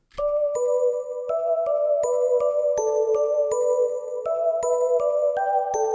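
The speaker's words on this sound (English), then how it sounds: "And the final melody is a bell from Nexus." A bright synth bell melody from the Nexus plugin plays alone, steady plucked notes stepping up and down with chiming overtones and a quick, even rhythm.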